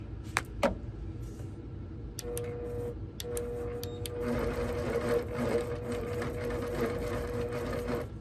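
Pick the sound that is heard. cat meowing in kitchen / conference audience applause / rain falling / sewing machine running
sewing machine running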